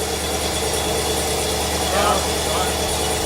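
A Chevrolet Camaro fitted with a 2-step launch control settles into a steady, rumbling idle after being started, loud and close, with people talking over it.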